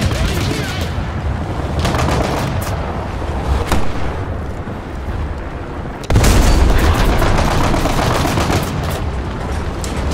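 War Thunder tank-and-plane battle at low tier, with loud continuous gunfire and artillery blasts, dense bursts building into a heavier barrage midway, some faint voice mixed underneath.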